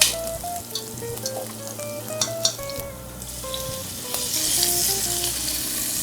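Onions and garlic fry in hot oil with a steady, close sizzle, broken by occasional stirring clatter and light pops, with music playing alongside throughout.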